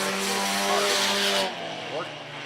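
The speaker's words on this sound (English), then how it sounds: "Hot lap session underway." Race cars roar through a hot lap session at Mohawk Raceway, a loud, steady engine drone with shifting pitch that drops off and thins toward the end.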